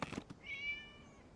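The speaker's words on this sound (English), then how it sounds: "It was just a cat." A cat meows once in the video game Genshin Impact, a single faint, drawn-out mew following a few soft thumps.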